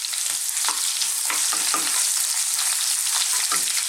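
Chopped onions hit a hot pan of garlic beef and fresh ginger, giving a steady, bright sizzle with bursts of stirring and scraping throughout, close and loud with no talking.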